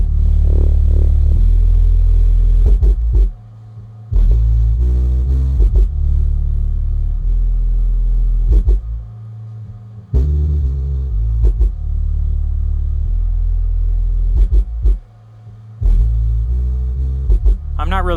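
A NEXO L18 subwoofer pushed to maximum volume blasts loud, heavy low bass in long sustained passages broken by a few brief gaps, with no clear level drop from limiting, and a voice talks over part of it.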